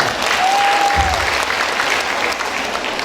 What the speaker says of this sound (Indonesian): Sekali lagi tepuk tangan semuanya.